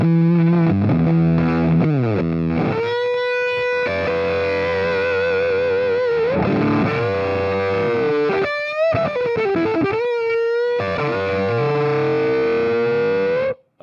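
An electric guitar through a fuzz pedal plays sustained, heavily distorted double stops with warbling, bending notes and brief gaps between phrases, loud and close.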